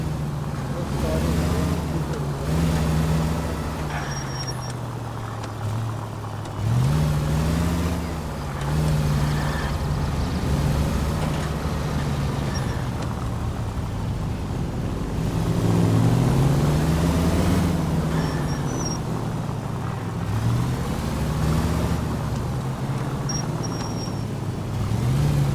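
A car driving in L.A. Noire, its engine droning steadily and rising and falling in pitch as it revs and shifts, continuous throughout under talk.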